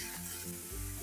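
Cabbage, cauliflower, carrot and mushrooms fry on a high flame with a faint, steady sizzle and a low hum beneath. The sound lasts only a brief moment and stays quiet, with no voices.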